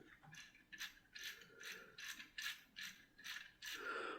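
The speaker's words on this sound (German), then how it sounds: "Wenn man nämlich die Ketten bewegt, dann bewegt sich hier oben innen der Motor." Rhythmic ratcheting clicks come from the gear-driven engine mechanism of a LEGO City 60466 bulldozer as its tracks are turned by hand, a run of about eight evenly spaced bursts of plastic clatter, close and fairly quiet.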